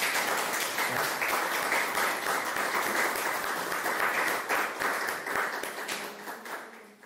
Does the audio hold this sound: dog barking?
no